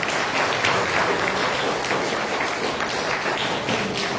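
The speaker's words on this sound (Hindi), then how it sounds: "एक बार जोरदार तालियां बंदी।" Loud, sustained applause from a large audience after a stage performance fills the whole stretch as a dense, even roar of clapping with no break.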